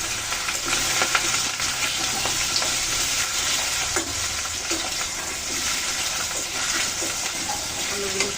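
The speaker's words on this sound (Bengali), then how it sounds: "আলুগুলো একটু ভালো করে ভেজে নেব।" Potatoes frying in a pan with whole cumin seeds for a simple cabbage stir-fry, a steady, close, loud sizzle and crackle running continuously without pause.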